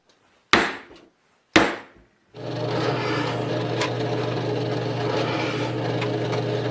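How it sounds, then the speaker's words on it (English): Two sharp, ringing hammer blows drive a 3/16 inch pin into a homemade wood-cutting machine, about a second apart. A steady, loud machine whir then starts and runs continuously. "In fact, I have to put it in with a hammer."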